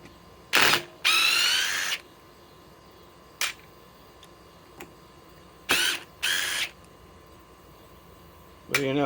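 A DeWalt 860 impact driver fitted with a 1.7 power stack battery, set to speed 1, fires in short whirring bursts with clicks and pauses between them, driving old fasteners from a tree stump. The sound is close and fairly quiet.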